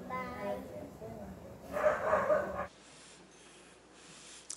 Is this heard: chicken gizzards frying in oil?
no